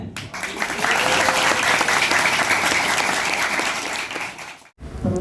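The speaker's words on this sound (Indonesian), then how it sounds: "Beri tepuk tangan." Audience applause at a pesantren gathering for a community service programme, a loud, dense wash of clapping from a crowd that holds steady for several seconds before cutting off abruptly near the end.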